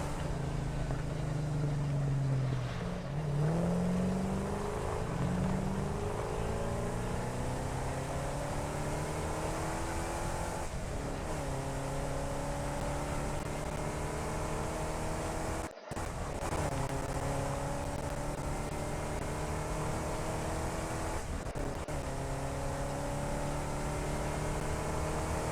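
A vehicle engine drones steadily in Satisfactory as a truck drives along, with rising and falling engine tones shifting through gears, a continuous mechanical hum throughout and a brief cut near the middle.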